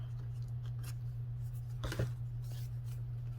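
A single snip of scissors cutting material for a quilted hardcover journal built from a cereal box, brief and close over a steady low hum, with no talk.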